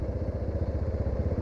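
A motorcycle on a ride gives a close, steady, pulsing engine throb for a moment, with no voices.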